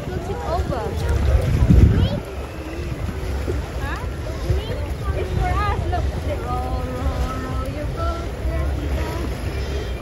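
Wind gusting across open water during a boat ride, a loud rough rumble with a surge early on, under lively voices of an adult and children talking throughout.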